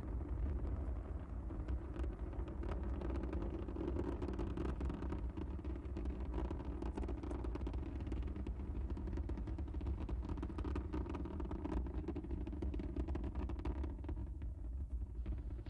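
Space Shuttle Atlantis's three main engines roar during the STS-44 launch climb, a steady, dense low rumble that holds at full strength with no pauses and no voices.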